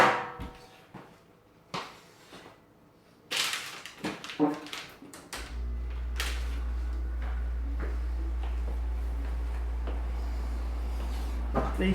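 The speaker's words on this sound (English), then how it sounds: "I'm going to turn the air conditioner on." An air conditioner is switched on after a few clicks and knocks, then settles into a steady low hum that runs on unchanged to the end.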